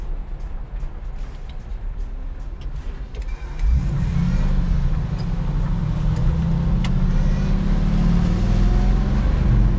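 A 1979 International Scout with power steering and power brakes being driven, its engine droning steadily from inside the cab and swelling louder partway through as it accelerates, with no talking.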